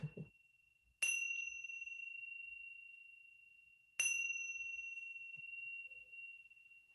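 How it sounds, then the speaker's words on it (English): A meditation bell rings twice, a clear bright tone struck about three seconds apart, each ring lingering and slowly fading in quiet surroundings. "when you hear the sound of the bell"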